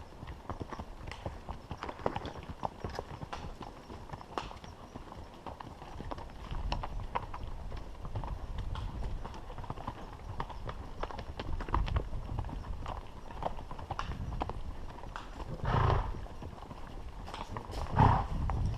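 Steady clip-clop of a Rocky Mountain spotted saddle horse's hooves, a gaited horse walking at an even, rhythmic pace, moderately close, continuing throughout with faint background noise.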